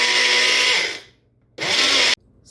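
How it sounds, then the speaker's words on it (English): An electric blender whirring through a thick henna hair dye mixture, two loud bursts of motor roar, the first about a second long and the second shorter, separated by a brief quiet pause. "I actually take it through a blender so that it's extra smooth"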